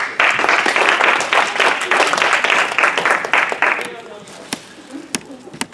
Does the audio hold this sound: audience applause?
yes